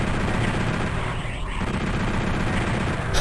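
Chain gun in the PlayStation DOOM firing a rapid, sustained burst of gunshots, loud and close, continuous for about three seconds with no pauses.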